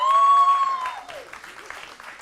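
Applause from a school board meeting audience honoring a student athletics coach, a dense wash of clapping that starts loud and thins out, with a sustained tone sounding over its opening moments.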